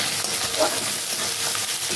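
Steady close sizzling of chopped tomato frying with ginger and spices in a pan for a satin fish and taro curry, an even hiss throughout with faint stirring.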